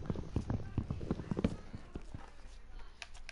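Horse hooves clip-clop in Minecraft as a quick rhythmic series of hollow taps that fade after a second or two, heard under a player talking over game background noise.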